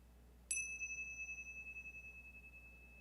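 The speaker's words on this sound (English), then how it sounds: "Fred to the bells." A single bell or chime is struck to open a Unitarian Universalist worship service, a bright ping with high overtones that rings out and decays slowly over about two and a half seconds in a quiet room.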